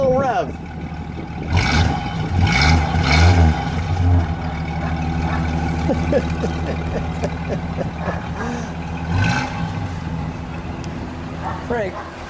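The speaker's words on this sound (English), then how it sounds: "give it a little rev" A 1948 Studebaker Champion Regal Deluxe convertible engine revs up close in a couple of short surges over a steady idle, with people talking nearby.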